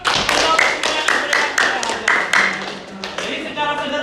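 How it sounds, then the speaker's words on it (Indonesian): Hands clap together in a classroom lesson setting, a dense run of fairly loud, regular claps lasting several seconds, with voices mixed in underneath. "Tepuk tangan dulu"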